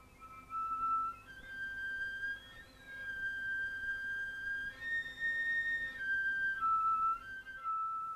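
Thin, pure flute harmonics held as long notes that shift between pitches, soft and breathy, played alone without any speech.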